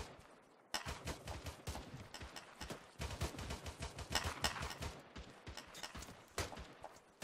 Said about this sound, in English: I keep getting shots into this compound here.